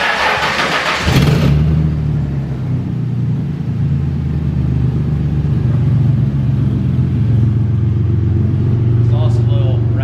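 A Mustang fitted with a new transmission sets off on its first test drive, its engine rumbling loud and steady from inside the car, with talk over it.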